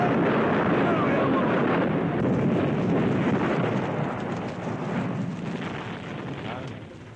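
A loud, sustained roaring rumble of a shop exploding and catching fire fills the whole stretch, broad and rushing with no clear pauses, slowly easing toward the end.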